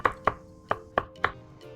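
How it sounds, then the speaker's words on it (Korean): Mushrooms sliced thickly with a knife on a cutting board, five or six crisp, evenly spaced chops close by with no talking. "버섯은 모양 그대로 살려서 식감 있게 살짝 도톰하게 썰어줍니다."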